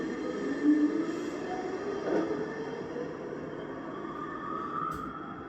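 Test train units of the 208 series running on rails during trial runs, a steady low rumble of rolling stock with faint wheel and rail noise at a distance, fairly even throughout.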